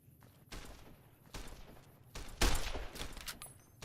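Gunfire from the companion Sunny in Fallout: New Vegas, a run of separate shots spaced unevenly over a few seconds, fairly quiet and without talk.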